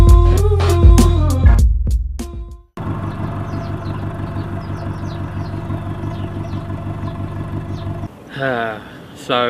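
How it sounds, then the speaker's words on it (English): Subaru engine idling steadily with a continuous low mechanical drone and faint clatter, reasonably close, preceded by loud knocking and rattling and ending with a burst of other noise. "It's a normal Subaru engine, basically a normal Subaru engine sound."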